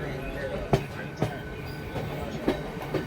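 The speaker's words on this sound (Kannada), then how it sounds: "ಬೆಳಗ್ಗೆ 7:30 ಬಿಟ್ಟಿದ್ದು ಟ್ರೈನ್ ಜರ್ನಿ." A passenger train bound for Bengaluru, heard from onboard, produces a steady rumble with rhythmic clickety-clack wheel knocks as it runs, and people talk beneath it.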